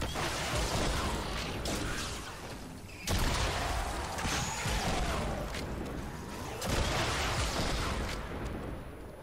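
A bazooka rocket launcher in Fortnite Save the World fires three heavy, booming blasts about three seconds apart, each leaving a loud rumbling, crackling tail.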